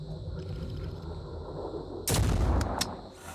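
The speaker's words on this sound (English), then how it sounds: "We'll just fire some shots into you just to annoy you." Gunshots ring out at an enemy armoured vehicle in the Blood and Titanium video game: a low rumbling backdrop, then a burst of loud close shots in quick succession with a couple of sharp cracks after.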